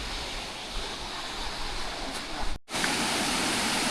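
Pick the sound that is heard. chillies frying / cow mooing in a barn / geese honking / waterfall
waterfall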